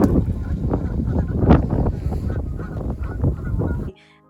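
Canada geese on a wetland honk loudly and repeatedly, several birds overlapping in close, raucous bursts that end abruptly, with no talking.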